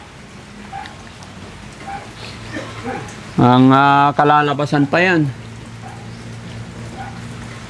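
Rain patters steadily over a construction site in a constant soft hiss, while a person speaks loudly for a couple of seconds in the middle.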